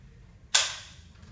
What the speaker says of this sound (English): you push this forward, which drives the needle and cocks the gun